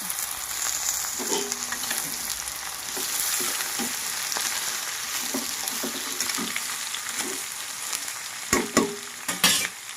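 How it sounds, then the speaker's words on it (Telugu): Ridge gourd and green chillies fry in a pan with a steady, close sizzle, broken by soft scrapes and taps of stirring and a few louder clatters near the end. "పచ్చిమిర్చి లైట్గా ఫ్రై అయినాయి కదా, బీరకాయలు కూడా వేసేస్తాను."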